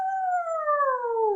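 A single voice imitates a young wolf's howl, one sustained, smooth 'ow' that slides slowly downward in pitch, close and clear.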